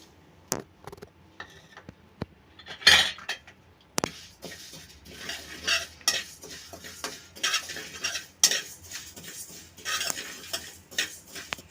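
Fennel seeds roasting in a pan over a low flame for lasode pickle masala, with scraping stirs, light clinks of a spoon against metal and a faint dry crackle throughout, close and uneven.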